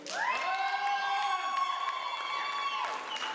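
An audience at a live show cheers and whoops loudly for a few seconds. The crowd noise is sustained and fills the room, with rising shouts layered over it.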